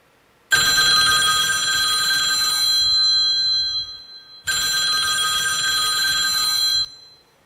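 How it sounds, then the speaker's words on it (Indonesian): A telephone rings in two long, loud electronic bursts separated by a short pause, clear and close with no voices. "Telepon di sampingnya tiba-tiba berdering."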